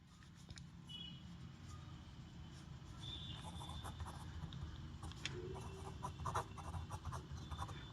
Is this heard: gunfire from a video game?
no